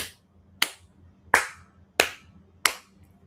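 Five sharp hand claps ring out alone at a slow, slightly uneven pace, each a crisp close slap with a short decaying tail over a quiet background.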